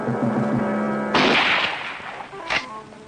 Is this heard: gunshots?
yes